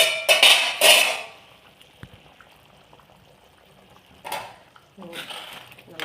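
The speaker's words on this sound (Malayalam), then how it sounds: "അടപ്പ് തുറന്ന്" A lid is lifted off a pot of Kerala-style mackerel (ayala) fish curry, with a burst of close metallic clatter at the start, then a quiet stretch and a few further knocks of cookware.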